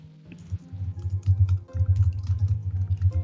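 Rapid, uneven clicking of keys on a computer keyboard, close to the microphone and fairly loud over a low steady hum, carrying on for the whole stretch with only brief pauses.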